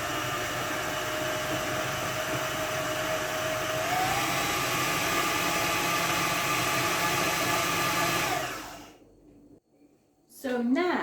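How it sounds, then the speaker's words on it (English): A food processor with its lid on mixes sweet pastry dough into breadcrumb texture, giving a loud, steady motor whir that runs evenly for about eight seconds before cutting off, followed by a brief clatter. "so now I can put the lid on the machine and mix it together"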